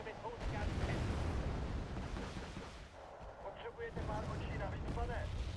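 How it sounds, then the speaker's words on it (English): Heavy artillery fire in a first-person shooter game booms and rumbles continuously nearby, a dense wash of blasts with muffled impacts and brief voices. "But this is the artillery coming from me, which is not good."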